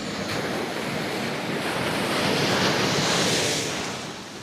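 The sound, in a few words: ocean waves around a fishing boat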